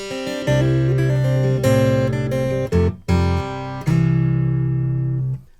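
Amplified acoustic guitar through Fishman AFX mini pedals with both EQs off, strummed in sustained chords with a couple of brief stops, bright and full, played alone without talking.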